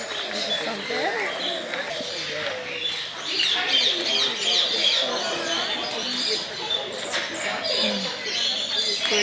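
Birds in a walk-through aviary at a botanic gardens bird park chirp, tweet and coo in a dense, continuous chorus close by, while people talk quietly underneath.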